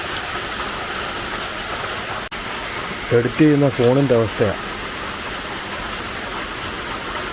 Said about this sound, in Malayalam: മഴ സൂപ്പർ മഴ